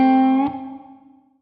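Electric guitar run through the echo section of a Carl Martin Quattro multi-effects pedal: a sustained, slightly distorted chord that is struck again and then trails off in fading repeats over about a second, heard alone.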